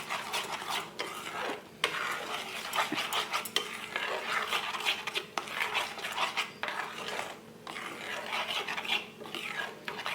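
Sugar stirred and fried in a pan for a jackfruit sweet, with continuous metal scraping and rasping stir strokes in a busy uneven rhythm, close and moderately loud.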